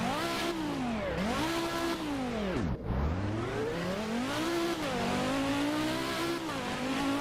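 A car in the Roblox game revs and accelerates through repeated gear shifts, the engine note climbing and dropping in loud sweeps with a brief tire chirp midway, steady and close with no talk.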